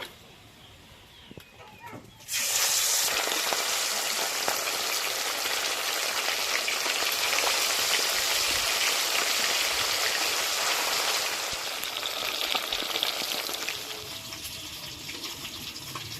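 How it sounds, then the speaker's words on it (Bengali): Bhola river fish slide into hot mustard oil in a kadai and erupt into a loud, dense, continuous sizzle that holds steady for many seconds before easing slightly, close to the pan. "এবার তেলে মাছগুলো ছেড়ে দেব"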